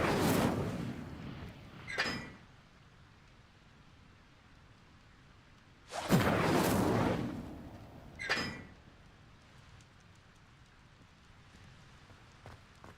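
Incendio fire spell cast in Hogwarts Legacy: two loud whooshing bursts of flame, each followed about two seconds later by a shorter crackling flare, with quiet gaps between.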